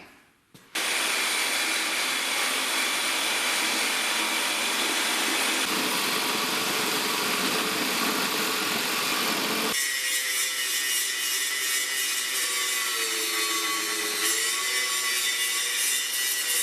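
Continuous loud cutting and grinding on an aluminum timing cover for a 5.7 HEMI engine, a harsh, sustained whine that shifts in pitch partway through, close and alone.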